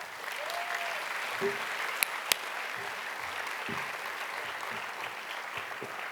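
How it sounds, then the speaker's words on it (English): Audience applause fills a school middle school moving-on ceremony hall, steady continuous clapping from a crowd with a few sharper individual claps standing out, sustained throughout. "Please give her a round of applause."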